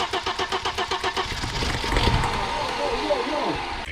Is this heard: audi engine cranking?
yes